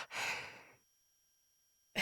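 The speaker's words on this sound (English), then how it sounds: "She's panting." A female video game character pants with one breathy exhale, then silence before another breath begins.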